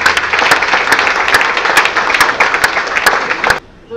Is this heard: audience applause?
yes